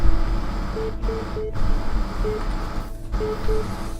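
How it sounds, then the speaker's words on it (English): In the video game The Talos Principle, a computer terminal gives short electronic beeps repeating at uneven intervals over a steady low hum, separated by brief dropouts in the background noise. "Apart from a beeping terminal."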